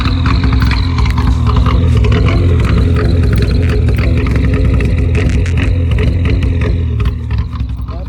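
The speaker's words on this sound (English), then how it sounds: "It is very loud. It's got no muffler." A 1985 Conquest car engine running with no muffler, loud and close, a rough continuous exhaust drone with dense pulsing and brief revs, holding steady before easing slightly near the end.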